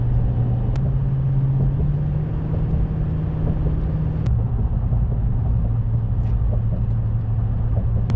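Car cruising along Pensacola Beach Scenic Drive, a steady low engine and road rumble from inside the cabin with a constant hum, faint clicks now and then, and no talk.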